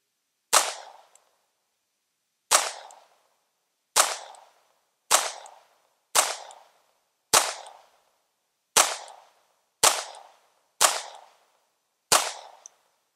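Walther P22 pistol fired at an outdoor range: ten sharp, loud single shots spaced one to two seconds apart, each with a short decaying echo, no voices.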